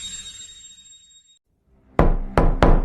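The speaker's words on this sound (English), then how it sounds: "A knock at the door." Three sharp, firm knocks on a door, close and loud in quick succession, coming after a near-silent stretch in which a faint tone fades away.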